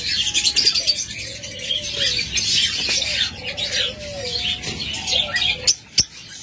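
Caged pet birds in a bird sale setting chirp and tweet repeatedly in short, high calls close by, with rustling and a couple of sharp clicks or wing flaps near the end, with no one talking.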